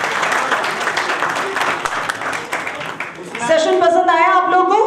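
An audience at a literature festival session claps in a sustained burst of applause, while a speaker's voice rises over it near the end.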